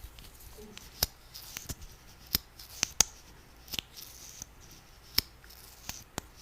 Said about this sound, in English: This is actually like a little plastic bag with something in